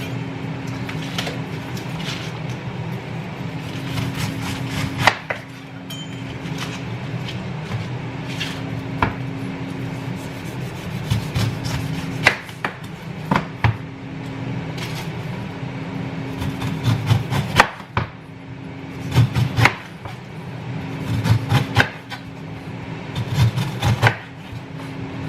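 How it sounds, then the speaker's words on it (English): A knife saws through a pineapple on a board, giving close, repeated rasping strokes and small knocks over a steady low hum, with no talking. "That is the pineapple cut"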